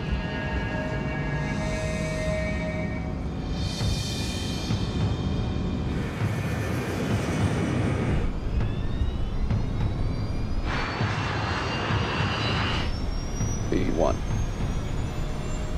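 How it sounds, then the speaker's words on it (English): DC-8 jet airliner accelerating down the runway toward takeoff, a sustained roaring engine rumble with a rising whine and bursts of hiss, under intermittent talk. "The DC-8 accelerates to takeoff speed."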